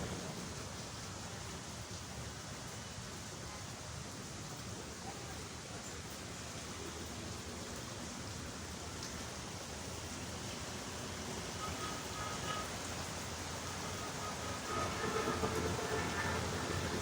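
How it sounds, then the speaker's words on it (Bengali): Rain falls in a steady, dense hiss that does not let up, growing slightly louder near the end. "এখন বৃষ্টি হচ্ছে।"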